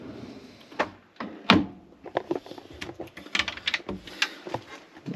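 A deep cutlery drawer slides open and shuts with rattling clatter, followed by quick light knocks and clicks, close by in a quiet room.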